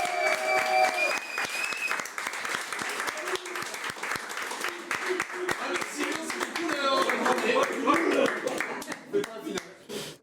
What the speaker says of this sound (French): Applaudissements pour Guindoul, magnifique